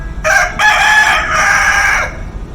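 A rooster at a chicken restaurant lets out a loud, close crow in two bursts, a short opening note then a long drawn call, heard alone with no talking.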